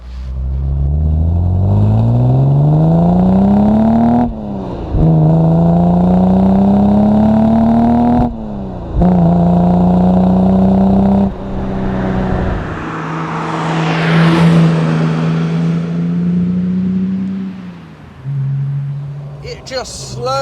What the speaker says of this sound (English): It just slowly but inexorably gathers pace